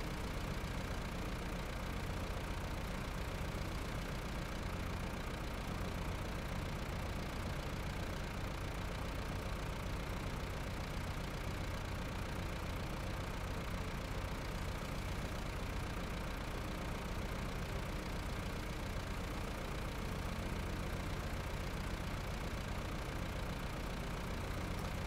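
A slow truck in the off-road driving game Snowrunner drones continuously at a steady low idle, a constant engine hum with no change in pace and no talking.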